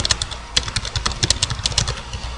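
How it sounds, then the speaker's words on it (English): Quick, uneven tapping of keys on a computer keyboard, close and crisp, in irregular bursts of clicks with brief pauses, heard alone without speech. "I'm not really typing proficiently yet"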